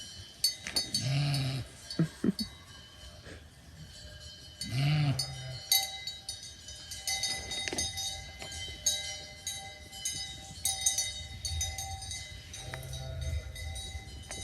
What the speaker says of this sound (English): so you can see the sheep around me